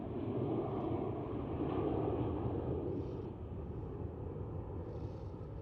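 A Vueling airliner taxiing toward the runway at Amsterdam Schiphol, a steady low broadband jet engine rumble and roar that stays constant throughout, heard at moderate distance with no voices.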